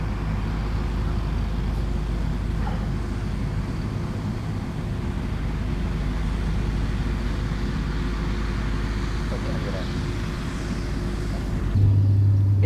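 A truck passing by outdoors, a steady loud low rumble that holds throughout and swells slightly near the end, with no talk over it.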